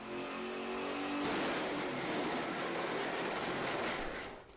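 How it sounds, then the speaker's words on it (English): A car engine revs hard on a dynamometer in a college automotive trades facility, a loud, sustained roar with rising pitch that stays steady and close throughout, with no voices. "Engines revved, wheels spun, and car parts broke as vehicles underwent dynamometer testing"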